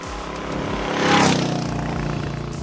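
Royal Enfield Hunter motorcycle running on its stock exhaust, a steady low engine thump that swells into a louder rev around the middle and then settles back, close and alone with no talk.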